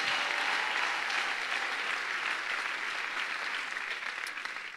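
A church congregation claps their hands together in steady, dense applause at a worship service, loud and continuous throughout before easing slightly at the end.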